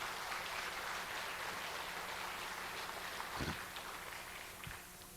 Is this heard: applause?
yes